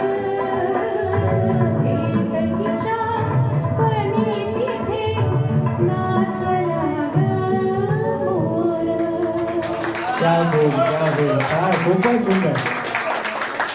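Audience applause follows singers' performance at a Marathi stage program: sustained harmonic vocal and music fill most of the stretch, then broad clapping swells in near the end, loud and dense.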